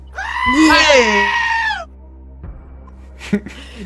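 A goat bleat sound effect: one loud, wavering, nasal bleat lasting over a second, followed by quieter background noise and a brief voice.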